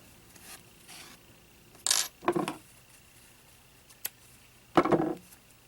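Scissors snipping a yarn tail while crocheting a mini doll, giving a few short, crisp cuts spaced apart in a quiet room, with a brief tick between them.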